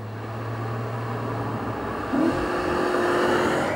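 The 4.2-liter V8 of a 2015 Audi RS 5 drones steadily, then its revs step up sharply partway through and hold at a higher, louder pitch.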